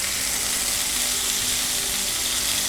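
Chicken shashlik pieces fry in a covered pan with a steady, dense sizzle that stays even and alone throughout.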